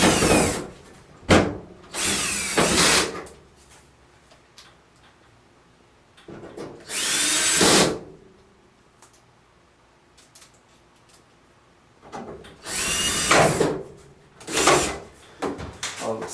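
Power drill driving screws into the panel of a Samsung dryer during a roller wheel repair, heard as several loud, separate bursts of whirring spread through the clip with quiet pauses between them.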